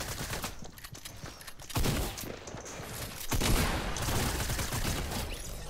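Rapid bursts of gunfire in the video game Fortnite, dense and continuous across several seconds with a louder stretch near the middle and end, no voices over it.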